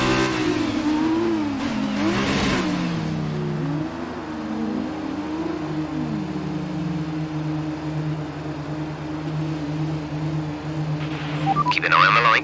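A Formula One car engine revs on the grid at Baku in the F1 2019 racing game, a rising and falling whine over a steady idle drone, with a voice talking over it.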